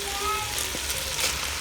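Potatoes and carrots stir frying in a pan over medium heat, a steady close hiss of sizzling with a few faint clicks and a voice faintly in the background.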